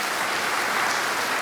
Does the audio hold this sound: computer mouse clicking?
no